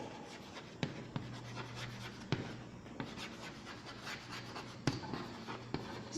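Pen or marker scratching labels onto a graph's x-axis in a math lesson, a steady faint rub with occasional sharp taps as strokes begin, close and quiet, with no talking.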